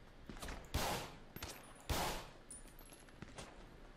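Gunfire in a GTA V roleplay jewelry-store robbery shootout, with sharp shots cracking out in two prominent bursts amid scattered lighter pops, fairly faint overall and without talk.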